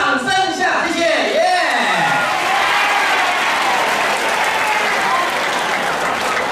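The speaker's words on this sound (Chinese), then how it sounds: "来，为他们再度啊，掌声一下" Sustained audience applause for a band at a live folk music performance, a dense steady roar of clapping with some shouts and a whoop over it, after a few spoken words at the start.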